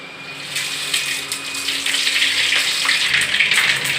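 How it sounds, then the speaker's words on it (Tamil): Mustard seeds and urad dal splutter in hot oil, a bright, dense crackle and hiss close by that rises and thickens after the first couple of seconds, with no talking. "கடுகு நல்லா பொரியுது."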